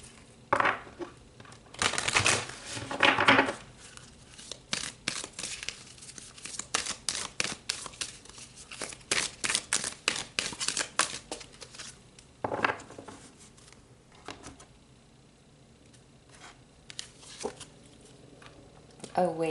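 Tarot cards are shuffled and pulled during a reading, producing soft papery riffles and crinkly rustles in bursts. Brief flurries of card handling are separated by quieter gaps, all fairly close and gentle.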